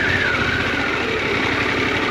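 A Harley-Davidson Pan America adventure motorcycle engine idles with a steady, loud, continuous rumble, heard up close and alone.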